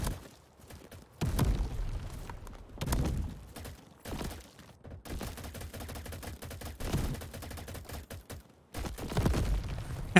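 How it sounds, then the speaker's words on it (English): Explosions in the video game Crab Champions come as repeated booming bursts and rapid crackling fire in irregular clusters, loud against quieter gaps, with no talk over them. "Try not to get hit with explosions."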